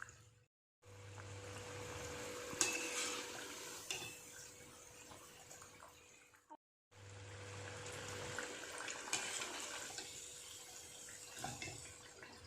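Peas cutlets frying in a pan over a low flame give a continuous soft, hissing sizzle in two stretches separated by a short silent break, with faint clinks.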